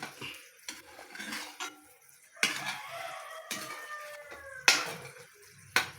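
A pot of biko, sticky rice being cooked, stirred with a utensil, giving sparse metallic clanks and scrapes against the pot, close and fairly quiet, with a few sharper knocks.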